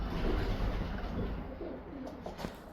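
Racing pigeons coo in a loft, their calls low and blended into a dense, noisy background hum.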